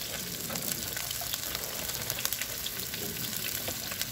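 Sliced onions sizzle and crackle steadily in hot oil in a pan while a home lunch is cooked, a quiet, continuous frying hiss with small pops and no talking.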